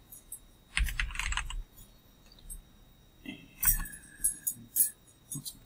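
Typing a password on a computer keyboard, two short bursts of quick close key clicks separated by a pause, quiet and without talk.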